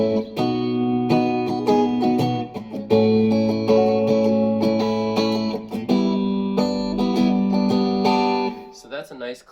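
Electric guitar played through a G-Town Holy Grail overdrive pedal with boost and mid engaged, a fairly clean tone ringing out chords in steady strummed phrases with brief pauses, sustained and close, fading at the end.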